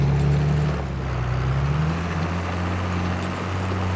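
A John Deere tractor in a farming video game drives along a road, its engine a steady low drone with a rising hum, loud and continuous, alone without talking.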